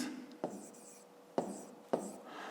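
A pen writes by hand on paper during a fifth-grade maths exercise, giving soft, close scratching strokes broken by three sharper taps as the pen lifts and presses down.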